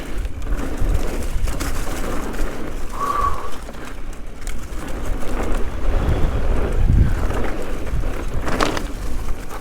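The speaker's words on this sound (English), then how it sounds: "Nice and windy." Wind rushing past a mountain biker riding trails in Skyline Wilderness Park, Napa, a loud, continuous broadband roar with a faint brief whistle and a bump near the end.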